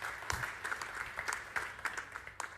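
Church congregation applauding together, a steady crowd clapping of moderate loudness with distinct sharper claps standing out, lasting a couple of seconds.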